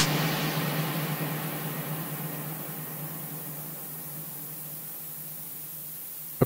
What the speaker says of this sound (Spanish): Escuchamos la cola de reverberación que continúa todavía, pero hay ruido, Entonces, el dithering es eso, es este ruido.